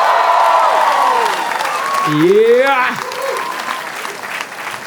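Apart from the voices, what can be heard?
audience applause welcoming guest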